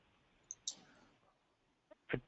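Small, sharp mouse clicks in a quiet room: a couple of light ticks near the start, then a louder, fuller click toward the end, with near silence in between.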